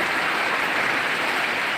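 Relief rain falling steadily after a severe heatwave in Sirajganj, Bangladesh, a dense, even hiss of drops with no gaps, loud and close throughout.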